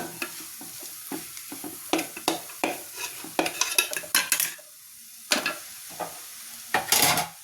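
Chicken curry masala frying in a pan while a spoon scrapes and stirs it, a steady soft sizzle under repeated rhythmic scraping strokes, close and moderately loud with no talking.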